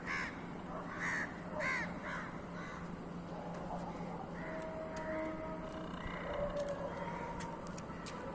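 Several crows caw at dawn in short repeated bursts, some near and some farther off, over a quiet background hum with faint other birds.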